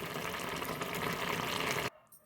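Loud, dense sizzling of spices tempering in hot oil for a carrot and bean coconut-milk curry crackles steadily for a couple of seconds, then cuts off abruptly to near quiet.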